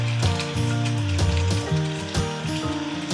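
Lukewarm water poured into a pan of hot oil and gravy, a loud crackling sizzle with repeated bursts of spattering and scraping, close and continuous.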